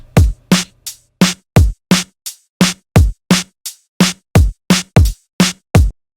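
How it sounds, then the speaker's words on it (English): A simple electronic drum pattern of kick, snare and hi-hat programmed in Ableton Live for jump up drum and bass, playing about fifteen loud, evenly spaced hits in a steady loop with no voices. "I've got a really simple drum pattern. It's just a kick, snare, and a hi-hat"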